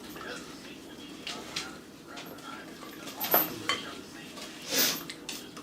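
Butter, partly melted, being mixed with other ingredients in a bowl for chewy chocolate chip cookies, heard as soft scraping and a few sharper clinks of utensil against the bowl, close and intermittent over faint background noise.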